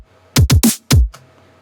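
Heavily processed drums from the closing section of a remix hit four punchy, booming times in quick succession, each dropping in pitch, then a softer fifth hit fades into silence.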